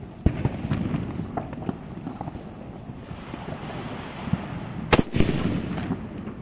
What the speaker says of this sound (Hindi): हाइड्रो वाले सुतली बम को जला के देखते हैं सुतली बम कैसा जलता है।